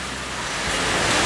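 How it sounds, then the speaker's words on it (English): Rain falls at a beach resort on Koh Lanta in Krabi, Thailand, as a dense, even hiss of broadband noise that swells slightly louder over a short moment, with no voices. "even though it's raining again"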